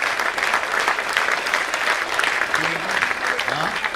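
Dense clapping from a group of listeners at a spiritual discourse, steady and fairly close, with a voice briefly rising over the applause near the end.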